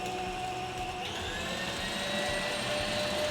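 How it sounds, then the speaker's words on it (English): Red velvet cookie batter being whisked after two eggs are added, giving a steady, close whirring drone with a motor-like hum that holds evenly for the whole stretch and shifts slightly in pitch partway through. "then we're going to whisk it some more until it all incorporates"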